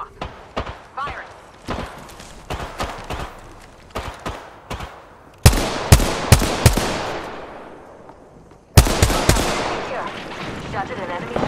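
Gunfire in the Apex Legends video game, sharp loud shots in scattered bursts with a couple of heavy blasts ringing out, while a voice talks between them.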